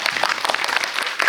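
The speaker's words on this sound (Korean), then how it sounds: "박수를 한번 드리죠." A cinema audience at a post-screening talk with the cast gives a brief burst of applause: brisk, close, overlapping claps lasting only a moment.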